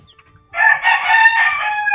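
A rooster, a two-time fighting-cock winner, crows once, loud and close, a single drawn-out call that starts abruptly after brief quiet.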